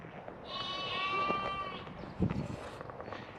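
A sheep on a farm lets out one loud, wavering bleat close by, followed by quieter shuffling and a brief thump in the outdoor pen.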